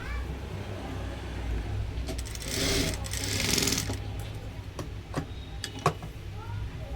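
A sewing machine stitches a blouse neck strip in a steady mechanical run with a louder burst midway, followed by scattered clicks and taps.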